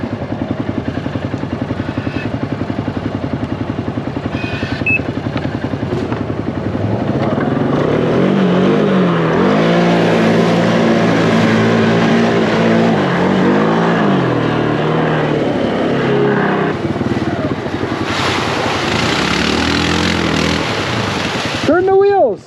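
A new 2023 Can-Am XMR 850 side-by-side makes a fast pass, its engine loud and close with rising revs and clatter through most of the run, while people talk over it.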